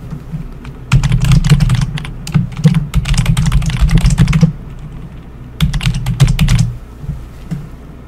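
Rapid, close keystrokes on a computer keyboard entering a username and password at a sign-in page, in two dense bursts separated by a short pause, with a few scattered taps at the end.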